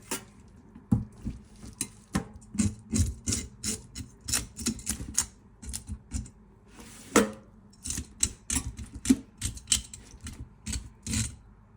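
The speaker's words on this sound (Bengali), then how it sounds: "এই তো ইলিশ মাছটা এখন আমি আস্তে আস্তে করে সব কিছু ছিলে নিচ্ছি" A knife scrapes scales off a hilsa fish in sharp, irregular bursts of rapid scraping clicks, close up and crisp, separated by brief pauses, with no one talking.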